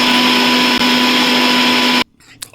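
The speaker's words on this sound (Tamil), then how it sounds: "இப்போ மிக்ஸி ஜாரில் போட்டு அரைச்சி எடுக்க போகிறோம்" A loud mixer grinder grinds henna, whirring steadily at high speed, then cuts off abruptly, leaving a brief quiet with a small clatter.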